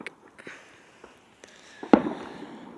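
Fireworks go off in the distance on a snowy New Year's Eve: several faint, scattered pops followed by one sharper, louder bang near the end, heard outdoors with no talking.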